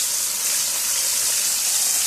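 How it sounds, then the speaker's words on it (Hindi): Water poured into a pan of simmering gravy paste while cooking a soybean nugget and potato curry, a steady, fairly loud broadband splashing gush that holds evenly throughout. "थोड़ा सा पानी डाल के हम इसे ढाल लेंगे"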